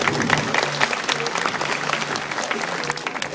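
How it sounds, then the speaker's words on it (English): Applause from a crowd at a tiger show, dense and loud clapping from many spectators sustained throughout, with faint voices mixed underneath. "How about a round of applause for Mishka?"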